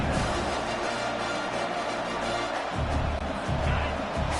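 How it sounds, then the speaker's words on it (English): Stadium crowd roar from the College Football 25 video game, a steady broad wash of noise held throughout, swelling slightly near the end, with no clear voices over it. "This crowd trying to make life miserable for this offense."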